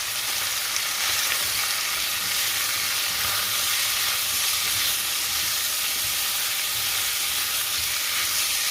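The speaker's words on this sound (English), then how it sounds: "So I'm just gonna go ahead and add our onions. Give it a stir like that." Onions sizzle and fry loudly in a pan alongside beef for tacos, a steady dense crackle running the whole time with occasional scraping stirs, close and continuous without speech.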